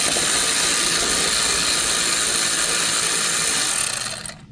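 A power tool with a 10 mm socket runs steadily for about four seconds, loosening the main power nut on the alternator of a Ford Escape, then winds down. The whine is close and loud, with no one speaking.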